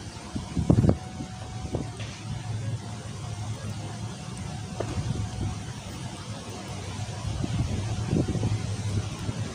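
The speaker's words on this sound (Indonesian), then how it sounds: "soalnya anginnya sangat kencang sekali di sini" Strong wind in a rural village among coconut trees, a steady roaring rush with microphone buffeting that swells toward the end, with faint distant vehicle noise and a few soft knocks.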